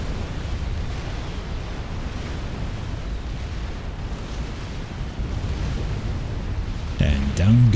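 Bombs detonate in the real-time strategy game Supreme Commander: Forged Alliance, a dense rumbling wash of explosions with a sharper burst near the end.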